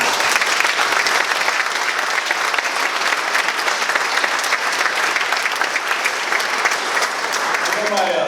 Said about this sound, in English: So I want you all to give a round of applause then to the superintendent and his command sergeant major